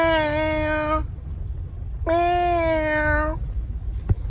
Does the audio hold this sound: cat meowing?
yes